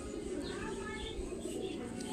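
A male pigeon with tied wings coos softly in a low, throaty murmur, faint and continuous, with a voice talking over it.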